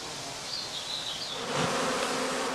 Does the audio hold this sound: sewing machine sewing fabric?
no